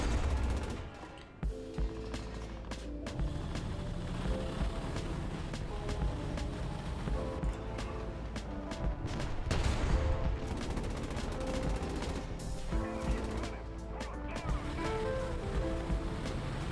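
Gunfire in the War Thunder combat game, with rapid bursts of shots repeating throughout over a steady mechanical drone and game music, fairly loud and continuous.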